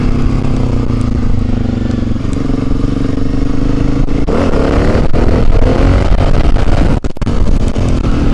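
A motorcycle engine revs loud and close as the rider practises wheelies, a steady rough roar with rises in pitch and a brief dip near the end, with no voices over it.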